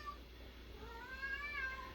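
A house cat meows in a few faint, drawn-out rising calls indoors during a tumbler-crafting work session, quiet against a low steady background hum.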